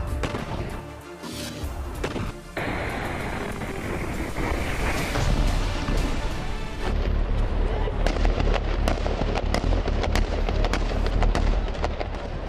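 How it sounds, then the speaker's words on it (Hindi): Heavy gunfire from more than a dozen IDF soldiers surrounding a stone building in Hebron, West Bank: loud, dense bursts of shots and booms, continuous and rising in intensity toward the end, with wind buffeting the microphone. "उसे घेरने के लिए 1 दर्जन से ज्यादा आईडीएफ सोल्जर्स ने फायरिंग की।"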